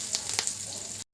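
Dried red chillies and curry leaves hit hot oil with split chickpeas and black gram for a mango coconut chutney tempering, giving a loud, crackling sizzle with quick pops for about a second before it stops abruptly.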